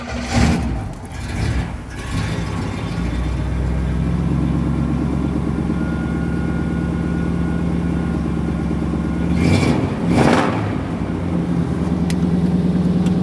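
A 1964 Cadillac engine cranks and catches, then settles into a steady, rumbling idle nearby, with a brief blip of revving partway through.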